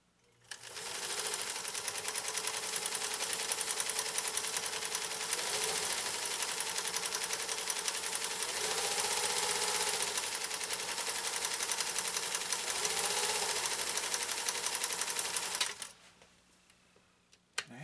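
A Pfaff 332 sewing machine, bought secondhand, runs continuously while it sews a decorative stitch with rapidly shifting stitch width: a steady close-up mechanical whir and rapid clatter that holds for about fifteen seconds, then stops abruptly into near silence.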